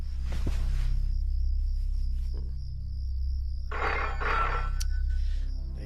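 A telephone rings at home during repeated blank calls, bursts of old-style bell trilling, one short burst early and a longer double burst later, close and clear over a low steady hum.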